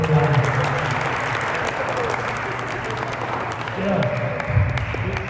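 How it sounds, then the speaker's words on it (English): An audience at a neighborhood association gathering applauds a colleague, sustained clapping at moderate loudness with a low hum of voices and murmuring running beneath it. "a big round of applause for my colleague and partner"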